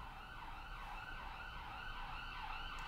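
An ambulance siren wails steadily as it passes outside, its rising and falling tone sweeping across the whole stretch, fairly distant and alone without talk.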